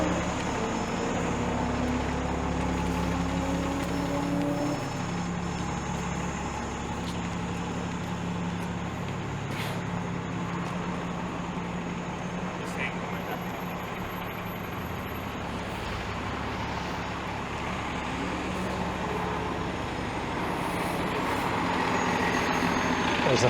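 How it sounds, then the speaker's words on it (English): Steady, loud interior rumble of a packed Toronto city bus running along Dawes Road, engine drone and road noise continuous throughout, with faint passenger murmur underneath. "This is a pretty packed bus."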